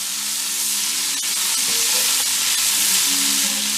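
Pork fat, butter and olive oil sizzle in a pot for beef bourguignon, a loud, even, continuous crackle with a few faint clicks and a low hum underneath.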